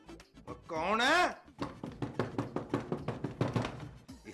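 Loud, rapid knocking pounds on a house door at night, about a dozen hard blows in a steady rhythm, following a brief wavering voice calling out.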